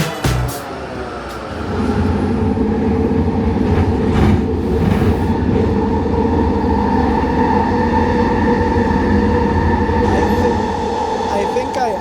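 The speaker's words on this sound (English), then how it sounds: "Underestimated how loud the train is" A loud train rumbles past at close range, a dense continuous roar with metallic ringing tones and brief clanks, sustained for the whole stretch.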